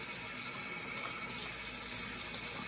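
Warm tap water runs steadily into a sink while makeup brushes are rinsed and squeezed under it, a constant close hiss of flowing water with no talking.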